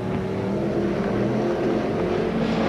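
Saloon race cars from the 1980/81 Australian title at Newcastle roar round a corner at a street circuit, several loud overlapping engine drones that hold steady and fill the scene.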